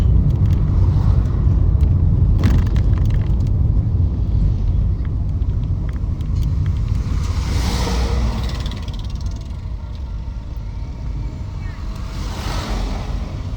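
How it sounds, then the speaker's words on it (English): Road traffic on the Nairobi Expressway in Kenya, heard from inside a moving car as a steady low rumble of road and wind noise with a few passing swells, continuous throughout. "Traffic there"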